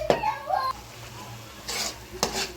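Chicken gravy with shallots and tomato bubbles and simmers in a pan, with a few scraping clinks of a utensil stirring it, close up and fairly quiet.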